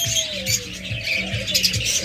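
Lovebirds in a bird shop give rapid, bright chirps and tweets in a continuous busy chatter, close and fairly loud.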